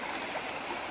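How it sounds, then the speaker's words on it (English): A small creek running over rocks along a hiking trail, a continuous close trickle and babble that stays steady and even throughout. "Here's our first little creek this morning."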